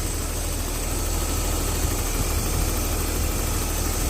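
A BMW E39 car engine idles steadily with a constant low rumble and hum, unchanging throughout and with no voices.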